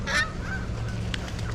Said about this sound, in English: A lot of geese down here.